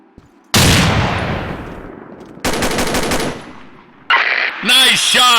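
Machine gun fire in the video game Combat Arms comes in loud, close bursts of rapid shots separated by brief gaps, followed by ringing game effects at the end.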